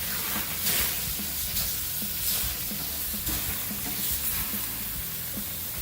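Ribeye steaks sizzle steadily on a hot Masterbuilt 560 grill just after being flipped, a loud continuous frying hiss with small crackling pops and no speech over it.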